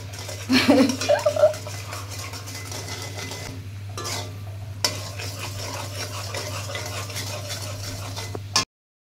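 A spoon scrapes and clinks in a pan as caramel cooks with a soft hiss, set against a steady low hum.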